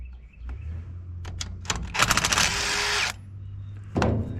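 While bolts and a nut come off a scrap copper motor, scattered metallic clicks and taps lead into a dense, second-long rattling mechanical burst, then a few more knocks.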